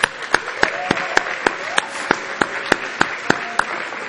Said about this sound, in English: Can we give a round of applause to all those that have won these gift cards?